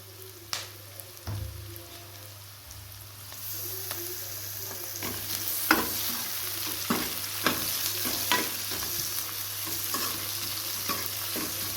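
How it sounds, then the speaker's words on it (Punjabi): Tomatoes frying with roasted onions for Punjabi onion sabji, a continuous pan sizzle that grows louder as a spoon stirs and scrapes repeatedly in a quickening rhythm, close up with no speech. "ਹੁਣ ਆਪਾਂ ਪਕਾਵਾਂਗੇ ਇਹਨੂੰ ਟਮਾਟਰ ਨੂੰ"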